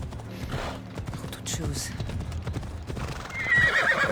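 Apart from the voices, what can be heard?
horse hooves and neighing in video game Assassin's Creed Odyssey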